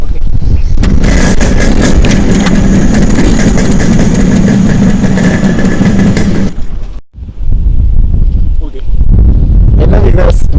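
A Yamaha RX100 two-stroke motorcycle engine, close and very loud, running with a rough, buzzy idle for several seconds before a brief cutoff, then rumbling again more quietly while a voice speaks.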